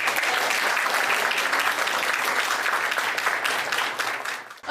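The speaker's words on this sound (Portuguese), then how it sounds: "Uma salva de palmas para a Evelise." An audience at a commemorative ceremony gives a round of applause, a thick, continuous clatter of many hands that holds steady and then tapers off near the end.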